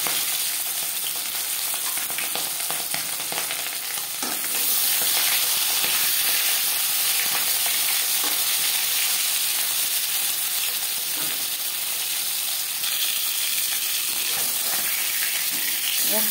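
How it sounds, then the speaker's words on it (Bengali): Marinated Bhola fish sizzling in hot refined oil in a pan, a loud, steady frying hiss that swells after a few seconds and keeps crackling evenly to the end. "3 চামচ রিফাইন্ড অয়েল গরম করে নিয়েছি। এবার দিয়ে দেবো ম্যারিনেট করে রাখা মাছ।"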